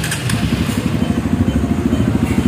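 Honda CRF dirt bike with an aluminium header exhaust firing up and settling into a steady, throbbing idle, close by at a muffler workshop.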